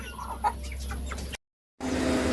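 A hen clucks softly among her chicks at close range, a brief burst of low clucks with a short silent break partway through.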